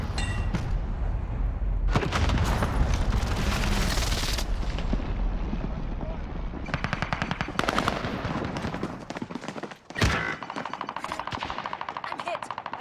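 Machine gun fire in a war film scene: long, loud, rapid automatic bursts crackle across the whole stretch, broken by short pauses and one sharp louder blast, with shouting voices faintly underneath.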